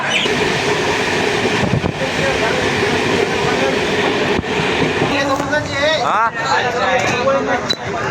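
A train standing at a station platform near Purulia in West Bengal, a steady loud rumble of rail noise and station bustle throughout, with a person talking over it in the later part.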